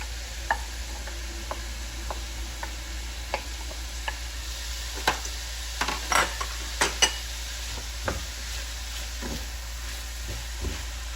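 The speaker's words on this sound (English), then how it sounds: "So at this point, I'm going to put in my cabbage." Shrimp and vegetable stir fry in a single pot with cabbage added, a steady low sizzle under scattered scraping and stirring clicks from a utensil.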